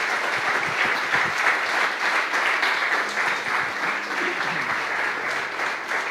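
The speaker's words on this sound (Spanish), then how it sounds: "Denle un fuerte aplauso al Señor" Congregation at an evangelical church service applauding the Lord after a pastor's sermon: sustained, fairly loud crowd clapping filling the room, with a few low voices murmuring underneath toward the end.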